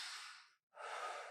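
Breath during a yoga sun salutation: one soft, airy exhale, a brief silent pause, then a fuller inhale, close and quiet with no talking.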